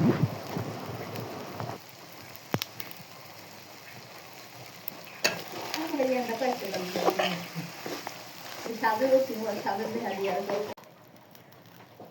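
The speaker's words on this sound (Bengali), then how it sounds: "কাতল মাছের মাথা দিয়ে কচু দিয়ে ডাল রান্না করছি।" Dal with katla fish head and taro cooks in a pot in a home kitchen, giving a soft bubbling, sizzling sound with occasional stirring clatter while a voice talks over it.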